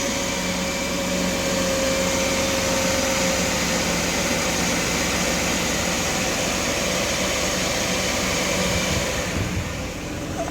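Air conditioning runs in a Mercedes-Benz W210 car, a steady close whooshing blower roar with a faint hum underneath, holding level throughout and easing slightly at the very end.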